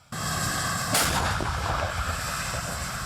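A captured T-80 tank fires its cannon near Bakhmut with one loud, close blast, followed by a long rumbling roar that fades slowly.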